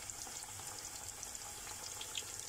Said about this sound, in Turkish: Aynı şekilde ağzı yumuklarımızı da kızartmaya alalım